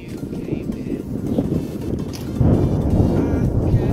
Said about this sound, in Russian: здесь ветер сильный